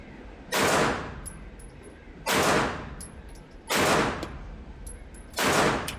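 Four evenly spaced pistol shots from a Canik Prime Radian or Glock 19 on a shooting range at 7 yards, each a sharp loud crack with a short decaying tail, about one and a half seconds apart.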